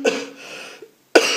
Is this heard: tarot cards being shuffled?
no